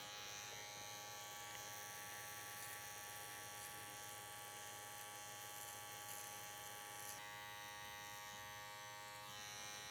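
Electric hair clipper buzzing steadily and close during a haircut, a continuous bright whine that shifts slightly in pitch partway through as the clipper works the hair.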